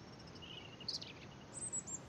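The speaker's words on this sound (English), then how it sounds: "The birds are still singing." Birdsong in the survival game Mist Survival: faint, high chirps and short warbling calls come and go over a quiet, hissy background, sounding distant and sparse.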